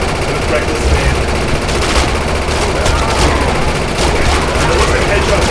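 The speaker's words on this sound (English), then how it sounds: "It's totally not because I'm firing a mini gun right now" A minigun fires in the video game Defiance, a loud, continuous stream of rapid shots across the whole clip, with someone talking over it.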